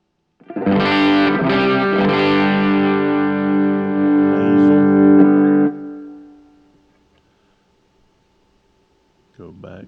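Electric guitar played through a NAM amp model with a Celestion V30 cabinet impulse response, distorted and effects-laden, sounding a sustained strummed chord that rings for about five seconds and fades out, followed by a short new attack near the end.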